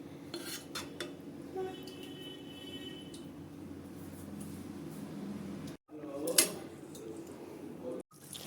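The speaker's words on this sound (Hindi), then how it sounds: "कोफ्तों को डाल दिया है और इनको अब चला करके ढक करके रख देंगे" A utensil stirs jackfruit koftas in a pan with soft scraping and clinking, followed by a lid clattering as the pan is covered; quiet kitchen sounds, fairly close.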